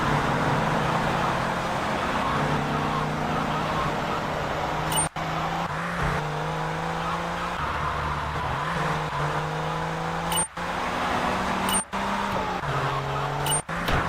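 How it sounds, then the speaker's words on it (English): Cars drive through city traffic in GTA III, a continuous engine drone with shifting pitch as vehicles rev and pass, punctuated by a few sharp cuts, with no talk. "Traffic."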